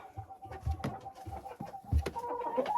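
Hens in an unheated henhouse cluck and murmur in short, uneven bursts, moderately close, with low thumps between calls and no voices.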